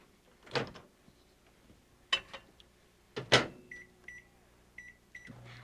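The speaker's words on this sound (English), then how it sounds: "Now all you have to do is set them on the rack and into the microwave 3 minutes." A 1993 microwave oven is operated for cooking shortcake: clunks of the door and rack, a series of beeps from the keypad, then the low steady hum of the oven starting, all fairly quiet and close.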